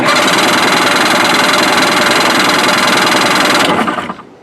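A Seadoo GTX 657 jet ski engine cranks over in a steady, loud, rapid rhythmic churn for about three and a half seconds before cutting off abruptly, with no voices over it.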